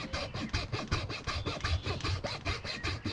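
A hand saw cuts a loosely held piece of red cedar in quick, even back-and-forth strokes, about a dozen close rasping passes repeating steadily with no voices.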